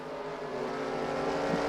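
Race car engines roar steadily on the Orange County Fair Speedway short track during a Super 6 Short Track Series round, a continuous loud droning blend of several cars at speed with no talk.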